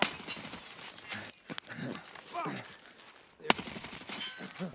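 Gunfire in the Escape From Tarkov game, on the Customs map: a few sharp shots, including a loud crack near the end, stand out against muffled movement and faint background noise.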